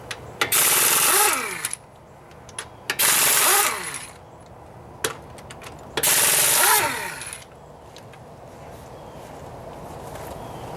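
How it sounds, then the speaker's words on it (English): An impact wrench removes brake caliper bolts on a Mercury Villager / Nissan Quest, giving three loud rattling bursts of about a second each with quiet gaps and small clicks between them. "With an impact, they're just going to come off in place."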